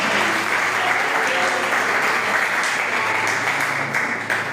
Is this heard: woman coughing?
no